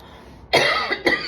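A single person coughs twice in quick succession, close and fairly loud, after a moment of quiet.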